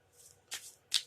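Hands give a tarot card deck a quick riffle shuffle, making two short, soft papery bursts up close in an otherwise quiet room.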